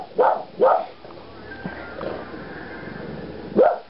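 A dog gives a few sharp barks close by, two quick ones at the start and another near the end, with quiet room sound between.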